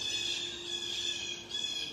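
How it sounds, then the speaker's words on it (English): Birds squawk outdoors at the close of a yoga session, harsh repeated calls layered over one another at moderate distance with no voices. "The birds are cheering for you."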